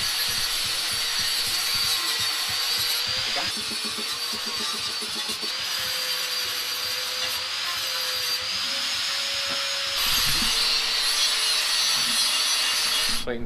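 Grinding on parts in an engine-building workshop during a 6.0 LS short block assembly, a steady abrasive rasping with rhythmic strokes that runs continuously and fairly loud, with shifts in pitch and intensity throughout.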